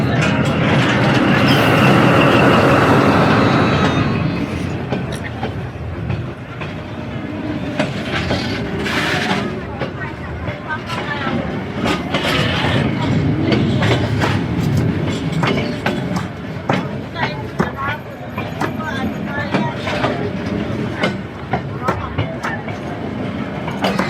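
Train passing on tracks in Myanmar, a loud rushing roar at first, then continuous rattling clickety-clack of wheels and cars rolling by for over twenty seconds, with people talking now and then.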